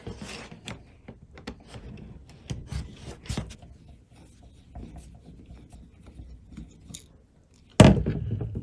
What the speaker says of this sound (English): Okay, we've got 3 more screws to deal with.